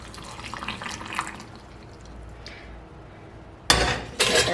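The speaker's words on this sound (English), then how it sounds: "now I'm adding the water vinegar mixture" Water-vinegar brine pours into jars of cauliflower and carrots for pickling, a soft trickle first, then two loud, close bursts of splashing liquid toward the end, with no voices.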